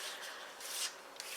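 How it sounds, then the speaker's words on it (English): Card stock is folded and burnished along score lines by hand, soft close rubbing and scraping strokes in short quiet passes, no voices. "we can now fold and burnish all our score lines"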